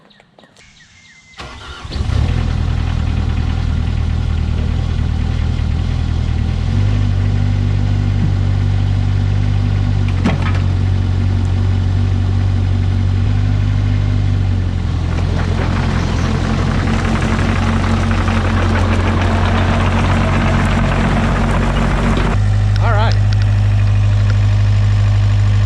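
A Cat 305CR mini excavator's engine cranks and catches after a brief quiet start, then settles into a loud, steady idle with its low diesel rumble holding for the rest of the stretch, with no voices.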